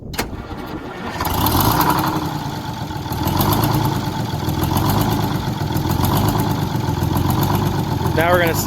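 Diesel compressor engine on a Texas rig running steadily nearby, a rough, throbbing drone that swells and settles, with a person talking in the background.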